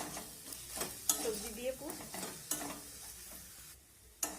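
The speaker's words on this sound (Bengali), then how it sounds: "আমি সব কিছু মিশিয়ে নেব শেষে দিয়ে দেবো এক মুঠো ধনে পাতা কুচি" A spatula stirs a vegetable filling with chopped coriander in a pan, soft scraping and occasional clinks against the metal over a low, faint sizzle, with no voices.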